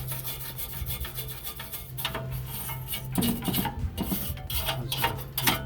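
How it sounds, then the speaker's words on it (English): Someone scrubs and scrapes white carbon buildup off a gas fireplace burner, a close, steady rasping rub with uneven rhythmic strokes and no talking. "Loosen that up, clean that burner."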